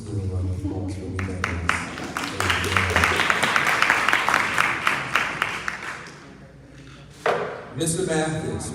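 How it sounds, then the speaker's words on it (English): Applause at a candidate forum in Albany, a crowd clapping in bursts mixed with talk, a voice briefly heard over it before the clapping dies down and speech resumes. "Let's give a round of applause for me"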